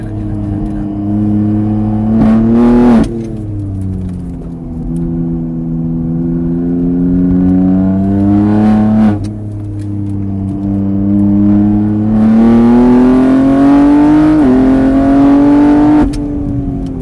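Kart engine revving loudly on the accelerator at Mireval, close up, rising and falling in pitch through several throttle swells with brief lifts between them.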